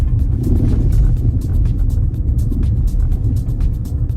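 A 2024 Chevrolet Blazer EV rolling over a rough, bumpy stretch of road, heard from inside as a loud, steady low rumble of road and tire noise with faint knocks, no voices.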